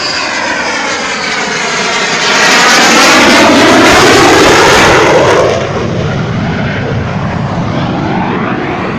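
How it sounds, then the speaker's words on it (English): A military jet flies overhead near San Diego, a loud, sustained roar that swells to a peak in the middle and then fades off while still audible, with no talk. "And even like military jets and stuff."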